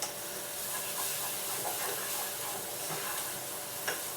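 Quinoa risotto simmering in a pan on the stovetop gives a soft, steady sizzle and hiss that carries on unbroken, close by and quiet, with no talking.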